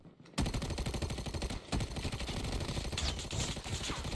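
Sustained close-range AK rifle fire in Call of Duty: Mobile battle royale, rapid continuous automatic shots rattling on for several seconds after a brief quiet start, loud and dense with no talking.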